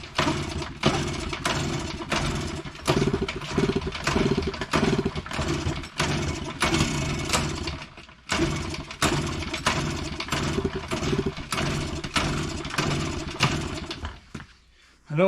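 A 1979 Yamaha moped that sat for years is cranked over repeatedly without starting, giving rapid rhythmic chugging bursts close by that pause briefly and resume, then stop near the end.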